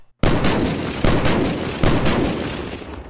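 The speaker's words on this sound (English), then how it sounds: "Dude, this thing shoots explosive rounds." Modded gun in Unturned firing explosive rounds, three loud booming blasts spaced about a second apart, each with a long rumbling decay, close and unaccompanied by talk.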